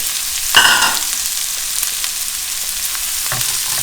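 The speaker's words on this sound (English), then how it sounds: "This is called sautéing, and this step is to get the vegetables cooked so that they're not raw anymore." A steady hiss and sizzle of vegetables sautéing in a hot pan for fried rice, with a brief louder crackle at the start and faint stirring clicks.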